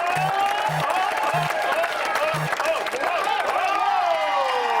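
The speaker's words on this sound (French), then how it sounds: "Dès que tu entends les 6 panélistes t'applaudir comme des déchaînés," Six panelists on a French-language television game show burst into wild applause, a dense clapping roar with cheering that carries on through the whole stretch over studio music.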